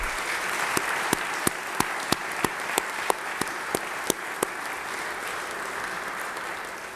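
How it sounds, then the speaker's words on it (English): Members in a state legislative chamber applaud the staff: steady crowd clapping heard from some distance, punctuated by a series of sharp, evenly spaced louder claps close by, fading slightly toward the end. "I think we need to give them a round of applause."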